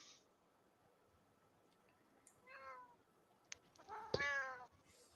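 A house cat meows a few times, first faintly, then with a louder drawn-out meow near the end, over a quiet indoor background.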